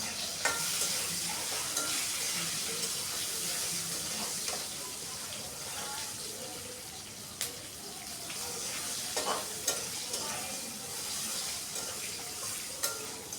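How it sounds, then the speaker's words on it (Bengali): Green chillies fry with potatoes in a pan while being stirred, giving a steady soft sizzle throughout with occasional scraping clicks and light clatter and no speech. "কাঁচা লঙ্কা দিয়ে দিচ্ছি।"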